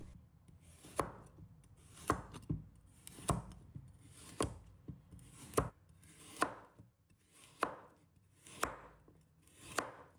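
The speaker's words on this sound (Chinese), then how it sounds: "把它切成小块。" A kitchen knife chopping a carrot into small pieces on a cutting board, heard as about ten sharp, evenly spaced chops close up, with no talking.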